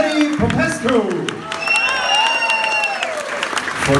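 Weekend concert crowd in Luxembourg applauding the performers, a continuous wash of clapping with some cheers while an announcer speaks over it.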